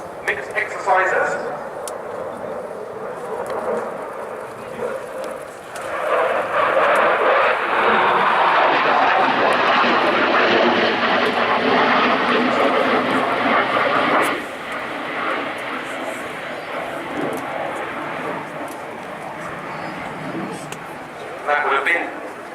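Mikoyan MiG-29A jet fighter flying a display at RIAT 2016, a loud sustained jet roar that swells as the aircraft passes and then eases back, with commentary heard over it.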